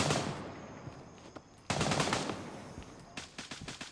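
Automatic gunfire rings out in the video game Greyzone Warfare, two sharp bursts of rapid shots with echoing tails separated by a short gap, followed by a few more scattered shots, fairly close and loud.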